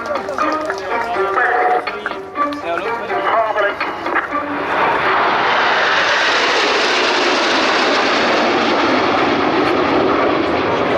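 A jet aircraft roars past at the RAF Cosford airshow, loud and near, building into a sustained broadband rush, while a commentator speaks over the first half.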